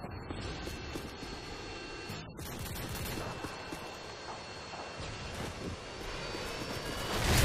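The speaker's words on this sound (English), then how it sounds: "Enemy Harrier's incoming." Enemy Harrier jets fly overhead in a first-person shooter video game, a continuous loud engine roar mixed with battlefield noise and clattering, swelling louder at the end.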